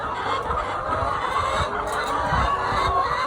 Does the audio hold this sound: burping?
no